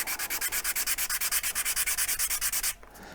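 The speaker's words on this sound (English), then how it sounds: "And I will also sand the insides of these just with 220." Sandpaper of 220 grit is rubbed by hand along the sides and insides of a wooden keepsake box, giving a fast, steady back-and-forth scratching of about eight strokes per second. It stops abruptly near the end, with no talk.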